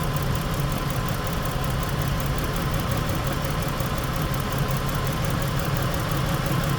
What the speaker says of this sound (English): the vehicle seems to be running a lot better now